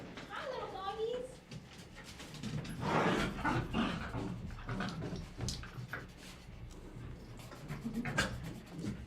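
Small dogs whimper and give short yips close by, with bursts of excited noise, while a person talks to them over the top.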